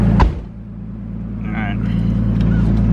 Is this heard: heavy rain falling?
no